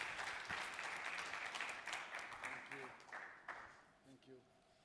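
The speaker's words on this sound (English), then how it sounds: "Yeah, a little applause." Audience applause in a conference hall during a plenary session, steady sustained clapping from a crowd for several seconds, fading toward the end as a few voices murmur underneath.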